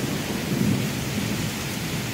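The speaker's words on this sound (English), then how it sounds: "That is some big thunder, guys." Steady heavy rain pours down during a severe thunderstorm in downtown Travelers Rest, with low rumbling thunder rolling underneath the constant hiss throughout.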